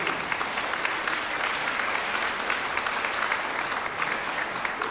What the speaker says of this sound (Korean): 박수를 부탁드리겠습니다.